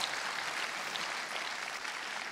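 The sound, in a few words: applause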